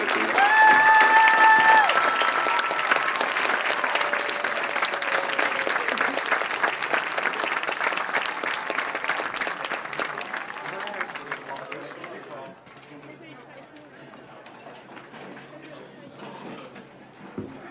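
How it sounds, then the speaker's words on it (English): A crowd applauds at a high school football evening at Bedford North Lawrence High School: dense, sustained clapping fills the first twelve seconds, then tapers to a quieter, thinner patter near the end. "Please join me in giving a round of applause to show our gratitude."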